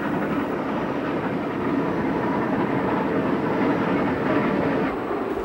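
An O gauge model train rolls past on a layout, giving a steady, loud rumble with faint clatter that holds at an even level from start to finish, with no voices.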